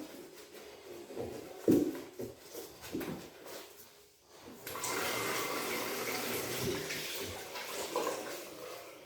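Water runs from a tap into a bathroom sink during cleaning. Some bumping and handling comes first, then a steady, close gush of flowing water continues to the end.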